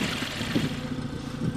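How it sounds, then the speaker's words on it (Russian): A car engine settles to idle after running at 2000 rpm during an injector-cleaning job, giving a low, steady, slightly uneven rumble that stays close and continuous for the whole moment. "2000 оборотов, теперь я снизил до холостых"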